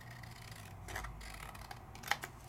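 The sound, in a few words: scissors trimming card paper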